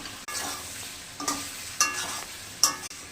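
Shrimp hiss in a pan with turmeric, ground coriander paste and salt as they are stir-fried, a continuous close sizzle with several sharp scrape-and-clack accents from the spoon, no voices.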